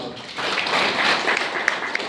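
An audience applauds a speaker at an academic lecture on Indian education policy, with a steady wash of many hands clapping that swells slightly and carries a few sharper individual claps near the end.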